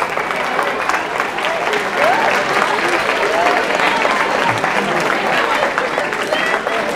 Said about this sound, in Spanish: Vamos a filmar el aplauso.